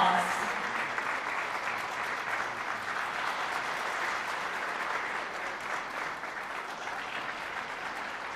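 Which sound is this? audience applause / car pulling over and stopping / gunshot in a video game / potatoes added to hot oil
audience applause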